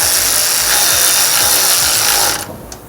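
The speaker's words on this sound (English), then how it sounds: "We'll tighten that up with our ratchet." A hand ratchet drives an 11mm bolt home while mounting rock sliders on a third-generation Toyota Tacoma, giving a rapid, loud, close clicking for over two seconds before it stops abruptly.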